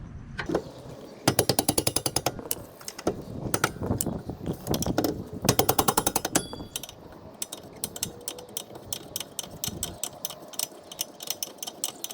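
Ratcheting wrench work on the rear brake caliper bolts of a 2005 Toyota RAV4 with a 14mm wrench, giving bursts of rapid metallic clicks in several runs, close and fairly loud, with no talking.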